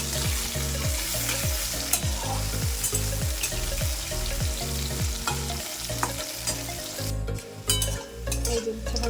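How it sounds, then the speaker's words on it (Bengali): Bitter gourd slices fry in hot oil in a home kitchen, giving a steady, close sizzle that runs the whole time, with a rhythmic music bed underneath. "তেলে এবার উচ্ছেগুলো ভেজে নিচ্ছি"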